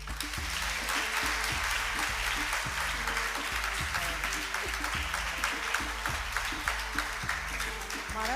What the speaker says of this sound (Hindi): इसके सब तालियां तो बजा दो